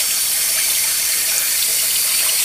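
Hot water pouring steadily from a tap into a sink in a home, a loud close hiss of running water that continues unbroken with no talk.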